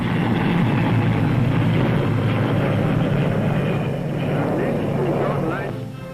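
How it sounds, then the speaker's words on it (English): A Hermes 5 turboprop airliner flies at a British airshow, its steady propeller drone and engine roar holding loud and even before fading slightly at the end, with a narrator's voice running over it. "Here, for instance, is the Hermes 5, a turbo propeller job with a cruising speed of"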